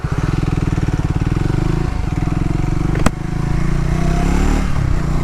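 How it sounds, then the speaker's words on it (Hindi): A Triumph Tracker 400 motorcycle with a twin-barrel exhaust runs close by with a loud, steady thumping idle, and a brief sharp clack cuts through midway. "इसको एक बार स्टार्ट करते हैं। 2 बैरल एग्जॉस्ट है जिसकी वजह से बहुत ही थम्पी साउंड ये आता है।"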